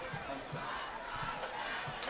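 A distant football crowd of Yellow Jacket fans at a high school game murmurs and calls out in displeasure, faint and steady with no clear peaks.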